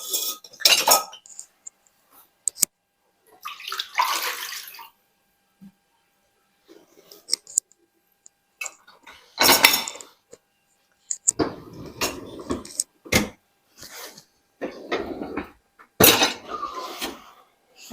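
Dishes and pans are stacked into a kitchen dishwasher, giving sharp clinks and clatters of crockery and cutlery in separate bursts with quiet pauses between them, close up and without talk.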